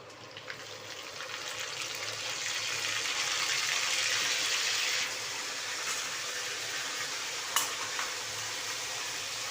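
Steady hot-oil sizzle of mustard seeds and cumin tempering in a pan, a dense crackling hiss that swells midway then eases slightly, with a sharp pop near the end.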